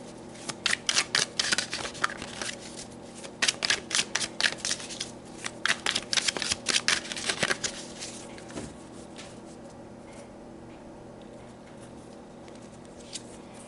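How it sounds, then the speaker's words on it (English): Tarot cards are shuffled close by in several quick bursts of crisp riffling and flapping, with short pauses between the bursts, followed by quiet near the end. "so let's pull some tarot"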